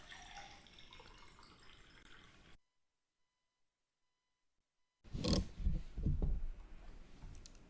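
Water runs or is poured, first as a soft continuous trickle, then after a few seconds of silence a louder, closer splashing pour; no voices.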